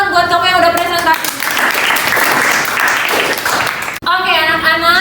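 A classroom of students applauds for a group that just presented, a dense burst of clapping lasting about three seconds between stretches of a teacher speaking.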